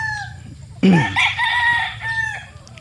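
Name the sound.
young rooster stags crowing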